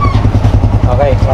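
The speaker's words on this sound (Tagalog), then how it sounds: "May motor, may motor." A motorcycle engine runs close by on a road in Rizal Province with a steady low rumble throughout, while people talk over it.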